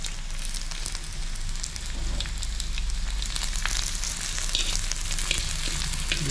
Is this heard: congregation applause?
no